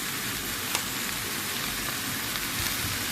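Shrimp sautéing in butter, a dense continuous close sizzle with a faint clink or two and no voices.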